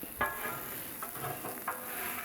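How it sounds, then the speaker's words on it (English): Shrimp and sausage sizzling on a Blackstone griddle, a steady close hiss of frying with a few soft scraping stirs, no talk. "Now we're just gonna let this shrimp cook for just a few minutes on each side."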